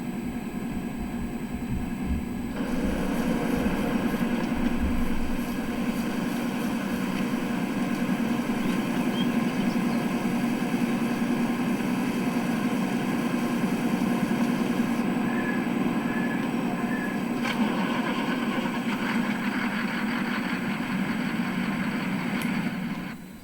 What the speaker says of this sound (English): This is my first time driving combine.